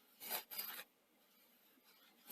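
A Scotch-Brite pad rubs across a small part from a Sony SL-C6 Betamax deck being resurfaced, giving two short, quiet scratchy strokes close up, then near silence and the start of another stroke.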